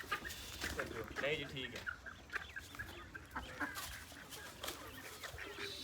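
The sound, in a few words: chicks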